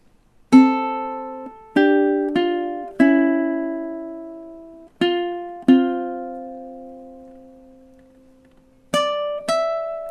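Single plucked ukulele notes ring out one at a time with pauses between, each decaying slowly, forming a sparse, gentle melody from Bach's Bourrée.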